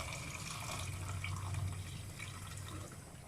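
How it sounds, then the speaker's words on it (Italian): Vegetable broth poured into a pot of pasta and potatoes, a quiet continuous liquid splash and trickle heard close with a low hum underneath, no talking. "Adesso possiamo aggiungere il nostro brodo a coprire."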